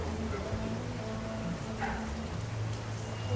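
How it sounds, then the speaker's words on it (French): Rain falls in a steady, even hiss that continues throughout, with a low droning hum underneath and no speech. "En fait, c'est la pluie, c'est fatigant la pluie."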